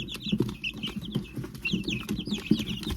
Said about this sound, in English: And now we're going to bring the guineas over.